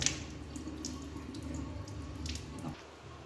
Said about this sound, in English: Wash them thoroughly with fresh water.